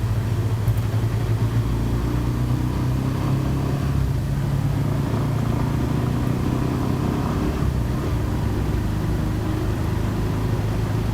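A motorcycle rides along an open road near Mabalacat and Angeles City in Pampanga, Philippines, its engine running as a steady low rumble with wind noise throughout, no talking.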